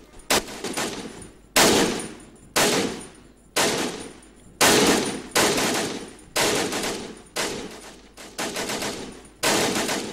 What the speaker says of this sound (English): You're hitting the dirt in front of the machine gun.